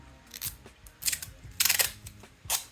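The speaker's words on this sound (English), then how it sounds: "Let's rip a couple pieces off." Strips of tape are ripped off a roll in a guitar-building workshop: a few short, sharp ripping bursts in quick succession, fairly close and quiet, with no voices.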